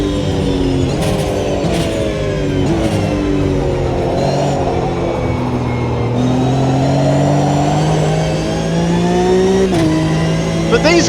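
A Porsche race car in the GRID racing game drones loudly and continuously, its engine pitch rising and falling through gear changes, with someone talking over it.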